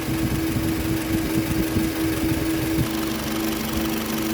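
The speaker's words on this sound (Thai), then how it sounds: "พัดลมไฟฟ้าทำงานทั้งสองตัวนะคะ" Both electric cooling fans of a Toyota Camry ACV running together with the engine idling, a continuous close whirring drone with faint rattling vibration and a slight shift in tone partway through; no talking.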